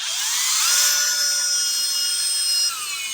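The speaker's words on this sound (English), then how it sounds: "So I'm drilling from this side." A power drill bores a hole through a soft vermiculite block for a mini gas forge, giving a loud, continuous high whine for about three seconds with no voices.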